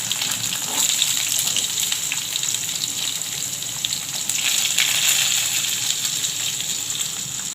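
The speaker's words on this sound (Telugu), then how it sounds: "ఇదండి, తాలింపు వేగుతుంది." Tempering spices fry steadily in hot oil, a loud, continuous crackling sizzle close by with bursts of spattering, as onions go into the seasoning for a Telugu flat-bean and tomato curry.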